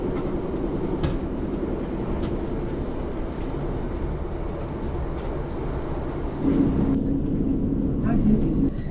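Steady low rumble of a train running throughout, with voices and clatter in a busy space on top and a slight change near the end.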